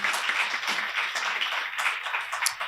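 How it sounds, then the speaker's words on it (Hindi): An audience at a Hindi poetry recital and award ceremony claps loudly. The spirited, uneven clapping has individual sharp claps standing out in the dense, continuous applause. "एक बार जोरदार ताली विस्टालैंड के प्रबंधन समिति के लिए बज जाए।"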